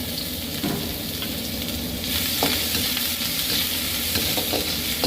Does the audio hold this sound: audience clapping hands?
no